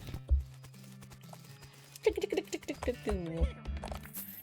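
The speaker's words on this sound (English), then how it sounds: "Looks like my pale horse made it back safe." Horse hooves clip-clop in the West of Loathing video game, a short run of quiet, evenly paced hoof clops followed by a brief whinny, with no other sound behind them.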